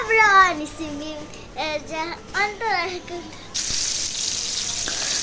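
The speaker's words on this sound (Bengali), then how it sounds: "এখানে আমি ইলিশ মাছ ভাজি করে নিতেছি" Hilsa fish frying in a pan, a steady hissing sizzle that starts partway through and holds at moderate loudness, after a child's high, sing-song voice fills the opening seconds.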